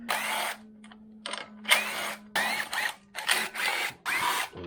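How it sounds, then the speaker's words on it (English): On a 2020 Kawasaki KLX110R rear fender, a drill bores out a rivet in short bursts: several whirring pulses of varying length separated by brief pauses, close and moderately loud, with a faint hum between. "we may have to drill this out and rivet it in."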